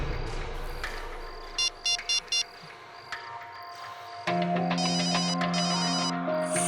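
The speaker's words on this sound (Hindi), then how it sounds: "सर किसी का फोन बज रहा है सर। फोन यहाँ आसपास ही बज रहा है।" A mobile phone rings nearby: first a faint burst of rapid trilling pulses, then a louder electronic ringtone swells in and keeps ringing against a quiet background hum.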